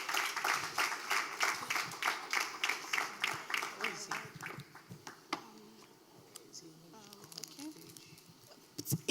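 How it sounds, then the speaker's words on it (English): Audience applause at a law week event in Lagos, a burst of steady clapping for several seconds that fades into scattered claps and murmuring voices of the crowd. "Please clap for our chairman."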